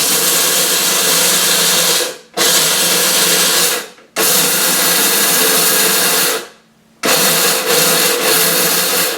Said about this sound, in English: So we're grinding our pepper.